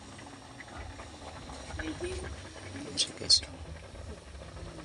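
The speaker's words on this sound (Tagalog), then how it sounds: "Yes guys, kumukulo na." Steady bubbling and hissing of water boiling in a cooking pot for squash and moringa soup, with a couple of sharp clinks as someone speaks briefly over it.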